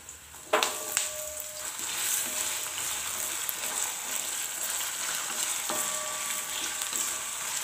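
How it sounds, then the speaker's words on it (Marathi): Potato pieces and peanuts frying in hot oil, a steady crackling sizzle that flares with sharp bursts as they go in and are stirred, with a few clinks of a utensil against the pan. "बटाटे सुद्धा आपल्याला तेलामध्ये परतून घ्यायचे आहेत"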